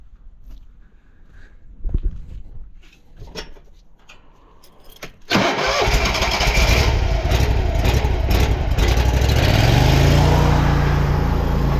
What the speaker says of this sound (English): I'm gonna have to set up the jetter.